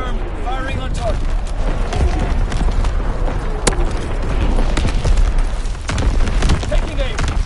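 Artillery strikes in a PS4 video game, with heavy booms and crackling blasts rolling almost without pause over a dense, loud rumble, while a voice speaks throughout.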